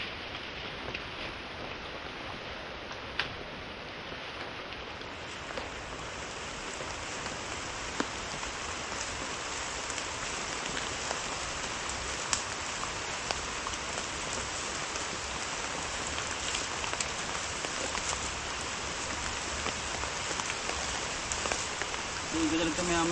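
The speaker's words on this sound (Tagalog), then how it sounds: "masyadong malakas ang ulan at hangin." Heavy typhoon rain pours down steadily in a dense hiss on surfaces, with occasional louder drips, continuous throughout.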